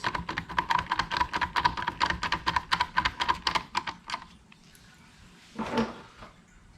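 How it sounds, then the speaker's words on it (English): Screws being driven tight on a clear plastic WRX/STI mirror turn signal: a quick series of close, sharp ratcheting clicks in steady rhythm for about four seconds, then quiet and a single brief knock, with no talk. "Now insert our screws and tighten our screws."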